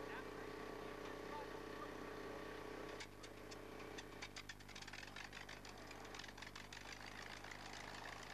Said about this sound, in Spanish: Ahora, en la pista de aterrizaje, calienta motores.